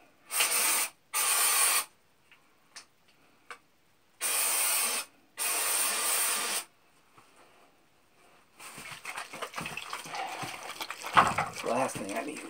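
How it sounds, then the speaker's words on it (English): Aerosol spray can test-sprayed into a bucket: four loud, hissing bursts of a second or so each, separated by small clicks and handling noises, followed by rustling and movement. "The easiest way to make sure that it's good is spray it in the bucket."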